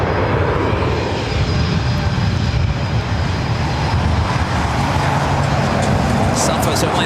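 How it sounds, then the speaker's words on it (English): A Delta Airbus A330 jet airliner at LAX, bound for Paris, sends out a continuous loud engine rumble and roar close by, with a voice talking faintly over it. "As expected, the Delta A330 heading to the south side,"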